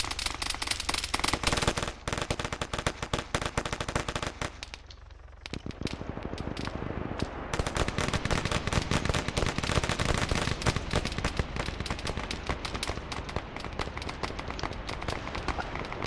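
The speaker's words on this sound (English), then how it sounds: "they're firing right at the smokes" Dense, continuous gunfire in the military shooter Arma 3, rapid cracks and bursts layered close and distant during a firefight, with a short lull midway before the shooting resumes loudly.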